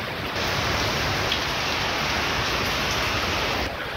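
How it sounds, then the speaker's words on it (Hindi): Heavy rain pours steadily on the road between Kochi and Trivandrum, a dense, unbroken hiss that stays loud and even from start to finish, with no voices. "बारिश रुकने का बिल्कुल भी नाम नहीं ले रही है"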